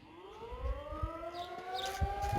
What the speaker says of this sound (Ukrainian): повітряна тривога але ми все одно працюємо